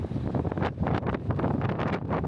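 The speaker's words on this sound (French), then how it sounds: "Il y a tellement de vent ici ces derniers jours." Gusty wind buffets an outdoor microphone on Madeira, the bursts rising and falling unevenly and loud throughout, with no one talking.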